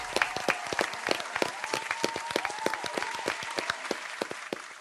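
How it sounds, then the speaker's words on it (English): A small group claps during a radio show broadcast, with sharp, distinct hand claps in an uneven but steady rhythm, fairly close and clear, along with a faint sustained tone underneath. "I'll give a round of applause for that."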